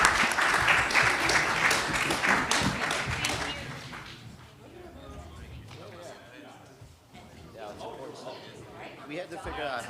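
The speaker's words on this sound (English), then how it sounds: "A round of applause." Audience applause for a panel at a symposium on young American men, dense clapping for a few seconds that fades out as people begin talking over it.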